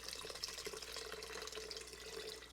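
Chicken broth poured from two cans into an Instant Pot, a steady, close liquid splashing and trickling that runs continuously without pause.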